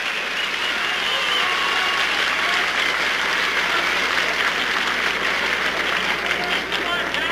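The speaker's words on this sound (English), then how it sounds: "And the crowd loves it." A large wrestling crowd applauds continuously at a match, a dense, steady roar of clapping that fills the whole stretch without pause.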